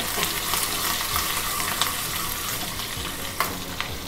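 Cashews, green chillies and curry leaves frying in a hot tempering: a steady, close sizzle and crackle with occasional sharper pops and light ladle stirring.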